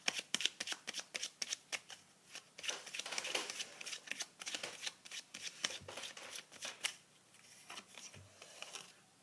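Tarot cards shuffled by hand during a love reading: rapid, crisp riffling bursts and papery slaps follow one another closely for several seconds, near and fairly quiet, with no speech.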